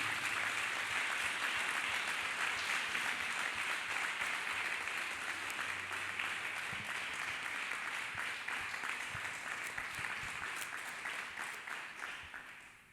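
A church congregation claps for Jesus Christ in a loud, dense, steady wash of applause that keeps going for more than ten seconds before gradually fading.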